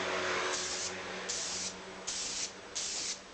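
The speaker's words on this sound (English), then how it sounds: "I'm just going to do it like spray painting." An airbrush hisses in four short sprays of basecoat paint, each about half a second, with brief pauses between them and a steady background hiss throughout.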